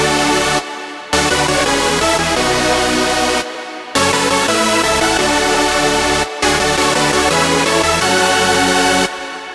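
Dense, sustained music with a washy, echoing reverb and delay tail, broken by a few abrupt silent gaps where the sound cuts out and restarts.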